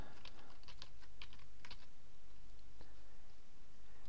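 Keys clatter on a computer keyboard as a username is typed into a WordPress blog's add-user form, a quick run of close, crisp clicks in the first two seconds that then thins out over a steady background hiss.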